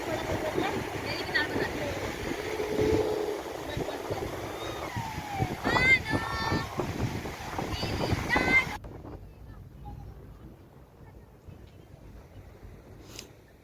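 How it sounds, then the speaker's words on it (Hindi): Sea surf rolls at a beach at Sandspit Point, a broad steady roar of waves and wind buffeting the microphone, louder in the first half and then fading to a softer distant wash. "दूर दूर तक समुंदर का शोर देखे कितना है।"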